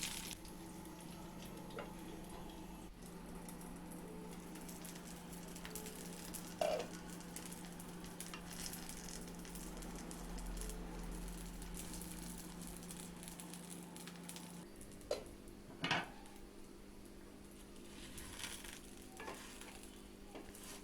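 Stuffed brinjal cooks in a covered pan over a low flame, producing a soft, continuous sizzle and faint crackle, with a few light clinks and a shift in the hum partway through, quiet and close, no voices.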